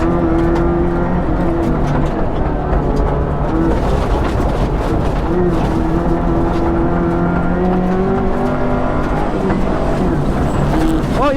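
An R4 rally Subaru on a track: a loud, close engine roaring continuously as it accelerates, with rising revs and shifting tones heard from inside the car, no talking over it.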